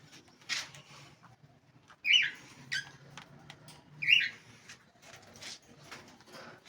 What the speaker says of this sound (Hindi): लेकिन फ्रेंड्स ये परिंदे हैं, दाना ज़ाया करते हैं